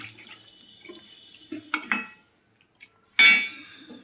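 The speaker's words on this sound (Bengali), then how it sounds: "এখন আমরা এর ভিতরে দেব পরিমাণ মতো জল" Water goes into a thin potato, cauliflower and pea curry: a few light clinks and drips in a quiet kitchen, then a short, loud splashing pour near the end.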